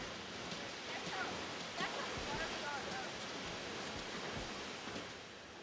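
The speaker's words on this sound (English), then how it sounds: "The Snoqualmie Falls here are about 268 feet tall, which is twice the height of Niagara Falls." Snoqualmie Falls, a waterfall about 268 feet tall, roars as a steady broadband wash of falling water, continuous and fairly loud throughout.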